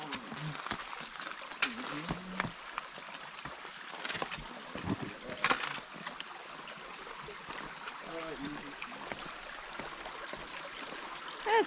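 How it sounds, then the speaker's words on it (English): A stream flowing at a river crossing on a hiking trail in the White Mountains, a steady broadband wash of moving water with wind noise on the microphone and scattered footstep-like knocks, heard close and moderately loud. "That's not a bad river crossing."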